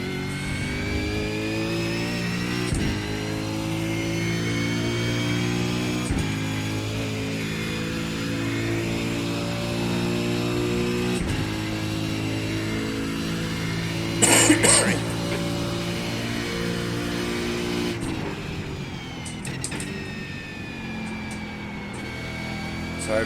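A Supercars race car in iRacing droning steadily at high revs, its engine pitch climbing and then dropping sharply at several gear shifts, with a brief crackle partway through.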